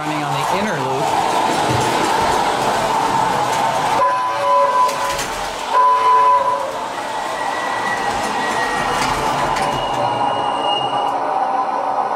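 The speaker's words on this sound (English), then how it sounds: "we have trains running now on the layout" A model train rumbles and clatters along its track with a brief horn-like tone, while a person talks over it.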